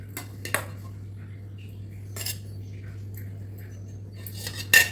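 Hot rice being served onto a plate with utensils, heard as a few separate metallic scrapes and clinks against the dish over a low steady hum, with quiet gaps between the strokes.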